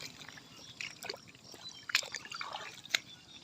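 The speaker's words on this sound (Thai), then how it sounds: "อันนี้น้ำออก" Water trickles and drips out of rain-soaked ground on a farm plot, a faint, thin flow with a few sharper drips standing out.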